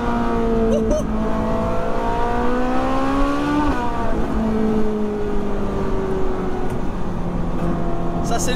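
A Ferrari 458 Spider's engine revs and pulls hard under acceleration, its rising and falling tone loud and close, broken by a brief dip as it shifts before climbing again.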